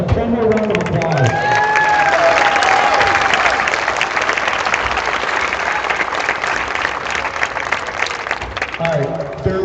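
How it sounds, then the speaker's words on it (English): Sustained crowd applause and cheering fill a firefighters association charity dodgeball tournament in Crown Point, loud and steady for nearly ten seconds, with a voice over a speaker system briefly heard at the start and end. "Let's one more round of applause."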